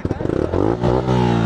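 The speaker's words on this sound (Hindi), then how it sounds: "गाइस सुन एग्जॉस्ट यार" A motorcycle exhaust on a Sunday ride revs in a short close burst, sputtering at first and then climbing into a loud, rising roar.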